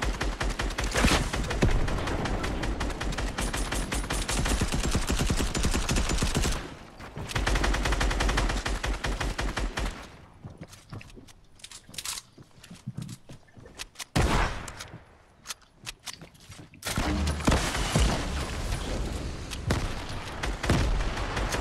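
Minigun fire in Fortnite, long loud continuous streams of rapid shots that drop out briefly, resume, go quiet in a sparser middle stretch, then roar back near the end.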